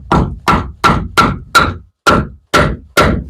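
A wooden blank is hammered onto a wood lathe's drive center with eight sharp, loud knocks, evenly spaced and close up, with no talking.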